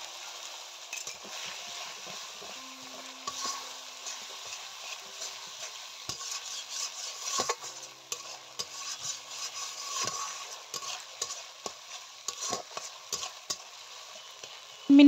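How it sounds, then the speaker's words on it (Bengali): Masala spice paste stirred and sautéed in a pan for a young jackfruit curry, with a steady close sizzle broken by repeated spoon scrapes and taps, no voices. "আবারও খানিকক্ষণ মশলাটাকে এখন আমি কষিয়ে নেব।"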